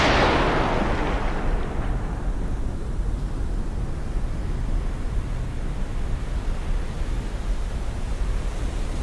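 Torpedoes launched from submarine tubes in the naval game Cold Waters: a loud rushing burst at the start that settles into a steady, dense churning roar of water, continuous for several seconds with no talk.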